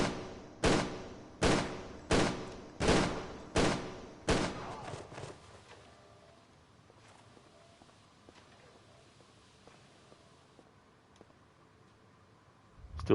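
Six evenly spaced, loud gunshots ring out about once a second in Tomb Raider: Angel of Darkness Remastered, then give way to quiet ambient rumble with faint scattered clicks.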